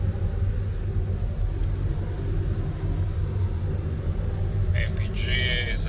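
Infiniti FX35 SUV cruising on good pavement around 70 mph while towing a 5,300 lb load; a steady low road rumble and engine drone fill the cabin, with only brief faint higher sounds near the end.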